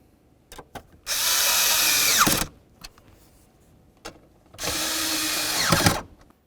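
A power drill runs up twice in long whirring bursts while tightening 7mm blower motor mounting bolts on a 2000–2005 Buick LeSabre, each burst winding down as the bolt snugs, with light clicks of handling between.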